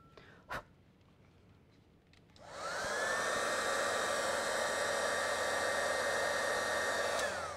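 A heat tool runs to melt embossing powder on a decorated bangle bracelet, starting with a click and then blowing as a steady, loud, close airy whoosh that continues without a break.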